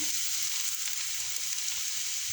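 Onions sizzle steadily in a pan as mushrooms are added, a bright continuous frying hiss with faint crackles, close up and even in level, with no talking.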